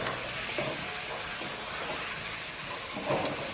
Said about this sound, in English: I'm just going to continue frying the meat till it's very,